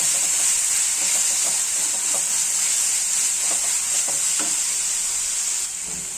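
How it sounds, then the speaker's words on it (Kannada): Green chili paste tempering fries in a pan for an everyday North Karnataka sprouted green gram dish, giving a loud, bright, steady sizzle with faint clinks of stirring. It is close and continuous, and no one speaks. "ಒಗ್ಗರಣೆ ಚೆಂದಾಗಿ ಅದನ್ನು ಫ್ರೈ ಮಾಡಬೇಕು"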